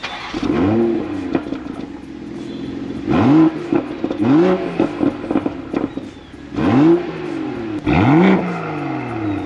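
A 2022 BMW Z4 with the B58 engine fires up and revs repeatedly, several sharp rising-and-falling blips over a steady idle, loud and close.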